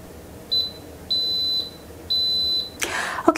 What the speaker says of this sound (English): Okay, so the Instant Pot has beeped,